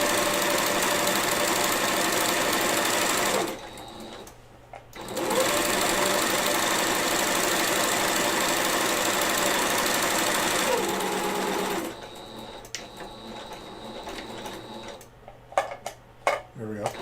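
A sewing machine fitted with a $20 add-on walking foot stitches gaiters in two long steady runs of close mechanical whirring with a fast needle rhythm, broken by pauses holding clinks and handling noises.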